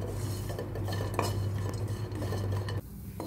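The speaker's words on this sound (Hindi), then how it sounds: "इसको हम भून लेंगे फिर से, ज़्यादा नहीं भूनना है इसको, हल्का भूनना है इसको।" Raisins, pistachios and other dry fruits being lightly roasted in a pan, a spoon scraping and clinking against the metal in repeated strokes over a low steady hum, close and moderately loud, no voices.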